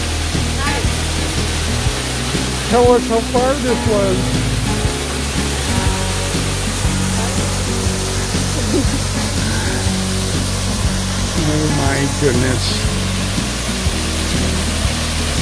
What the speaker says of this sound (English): Waterfall is loud, I couldn't hear you.